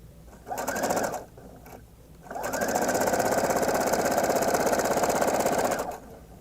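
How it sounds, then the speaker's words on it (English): Sewing machine stitching the shoulder seams of a top, sewn from the outside: a short burst of rapid mechanical whirring, a pause, then a longer steady run of close, loud stitching. "I'm going to sew from the outside so that when I go over those shoulder seams, they're going to go to the center."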